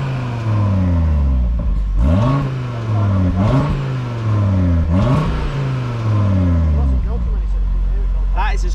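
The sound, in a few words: Audi RS3 8Y engine revving, exhaust sound check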